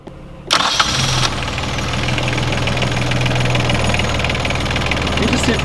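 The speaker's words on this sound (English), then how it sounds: "You ready to start the engine and stop when I say?" A sailboat's inboard engine cranks with a short rattling burst, catches, and settles into a steady, loud, chugging idle that continues throughout, with no speech over it.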